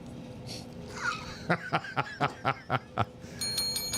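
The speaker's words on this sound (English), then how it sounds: "That's my bell that I found." A small found bell rung repeatedly, about eight quick bright dings in a steady run, close and clear after some background noise, ending in a sustained ringing tone.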